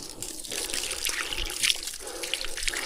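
Water runs from a tap in a steady splashing trickle, close and moderately loud, with no talking over it.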